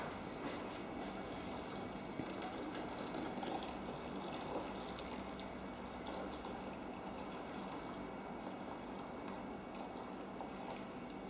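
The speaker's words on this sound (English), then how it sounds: "To this I will add boiling water." Boiling water is poured onto rice seasoned with salt and ground spice powder, set to soak for a chicken kachi biryani. The pour makes a steady, continuous rushing wash that lasts for about eleven seconds.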